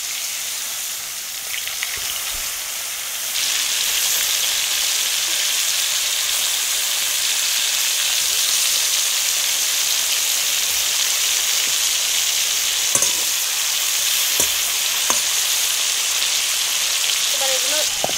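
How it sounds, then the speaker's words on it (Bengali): Steady, loud hissing sizzle of spiced cauliflower pieces frying in hot oil, continuous throughout with a few faint clicks and soft background voices. "তেল গরম হয়ে গেছে, লবণ হলুদ লঙ্কার গুঁড়ো মাখানো ফুলকপিগুলো এবার আমি ভেজে নেবো এক এক করে"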